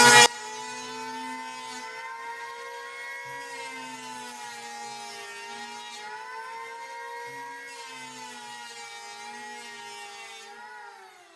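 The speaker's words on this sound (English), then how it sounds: "you plug the planer in, and we literally started" Electric planer running on a wooden sash bevel during a repair, giving a steady high-pitched motor whine with a buzzing harmonic tone that holds for about eleven seconds, rising slightly near the end.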